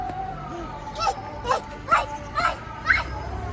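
A small dog gives five short, sharp yips at a steady rhythm about half a second apart, close and clear over low background noise.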